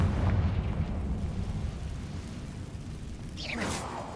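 A Confringo blasting spell in Hogwarts Legacy erupts with a heavy low rumble that slowly fades, followed by a bright crackling burst near the end, in a dusty abandoned spider-filled chamber reached by a staircase.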